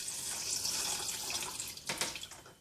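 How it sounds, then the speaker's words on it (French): Water poured over cashew nuts in a bowl while preparing plant-based cheese, a soft, fairly quiet trickle and splash that grows briefly louder near the end. "Et on recouvre tout ça d'eau dessus."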